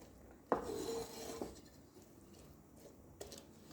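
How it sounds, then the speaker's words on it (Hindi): A large onion and ghee go into a cooking pan. A sharp metallic clank opens a soft hiss, followed by another lighter clink and quiet pan noise. "पैन में डाला एक बड़े साइज़ का प्याज, साथ में डाल देंगे घी।"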